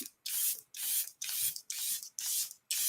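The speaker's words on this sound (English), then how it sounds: "I'm going to spray my face." Setting spray is misted onto a face in six quick hissing bursts, evenly spaced, close and fairly soft, with no voices over them.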